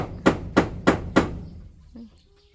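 Four evenly spaced hammer blows drive nails, sharp close knocks about a third of a second apart, then fade into quiet with a faint bird call.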